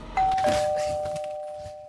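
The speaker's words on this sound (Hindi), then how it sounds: "डोरबेल कंटिन्यूअसली बज रही थी।" A doorbell chimes once, a clear electronic ding that rings out and slowly fades, fairly close with no one speaking.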